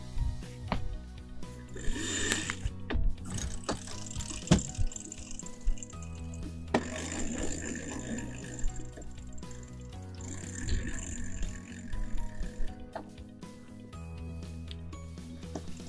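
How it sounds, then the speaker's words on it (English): Winch clicks and mechanical ratcheting as a yacht's mainsheet is trimmed on an X-Yacht under sail, with water rushing and wind noise throughout. "I can start trimming the main sheet on."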